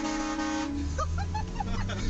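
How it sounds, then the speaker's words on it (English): Train horn fitted to a Scion car, a loud sustained multi-tone blast that breaks off into a series of short honks, with voices and other sounds briefly mixed in. "Mine came with a train horn."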